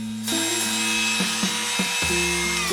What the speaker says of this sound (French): Je vais également percer